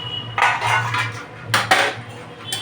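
A metal plate used as a lid is lifted off a pot of simmering vegetable stew with papaya and potato, giving a couple of close, sharp metallic clanks and scrapes against a low stove hum.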